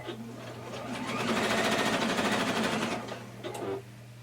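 A sewing machine stitches seams on a dress, a steady close mechanical whir that runs for about two seconds, then slows and stops with a few brief clicks.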